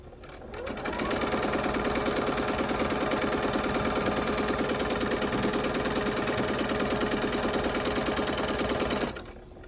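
A sewing machine stitches quilt rows in one continuous steady run of rapid, even needle beats, close and fairly loud for about eight seconds, then stops.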